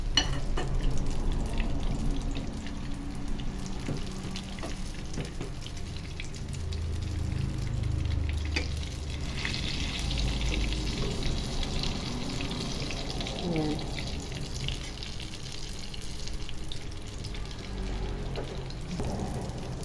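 An eggplant omelette fries in a pan over medium heat and is stirred to keep the bottom from burning, giving a soft, steady sizzle with occasional light scraping and stirring noises throughout.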